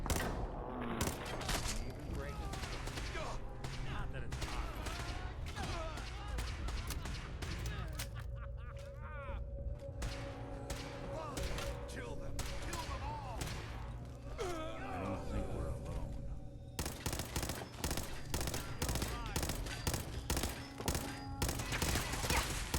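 Rapid bursts of gunfire in Fallout 4, dense volleys with a quieter stretch in the middle, plus occasional muffled voices and effects.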